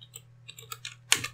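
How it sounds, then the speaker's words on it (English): Someone types a password on a computer keyboard while setting up folder sharing in Ubuntu 16.04, producing a short run of light, irregular key clicks close to the microphone. "I'm gonna type in my password."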